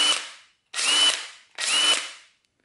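A Harbor Freight Earthquake XT 1/2-inch cordless impact driver whirs in three short bursts, each a loud high-pitched spin that winds down before the next, close to the microphone.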